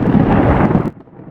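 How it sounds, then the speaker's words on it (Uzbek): Lightning striking an airplane brings a loud, heavy thunder crash that rumbles strongly for nearly a second, then drops off abruptly into a quieter, fading tail. "Chaqmoq urdi, chaqmoq."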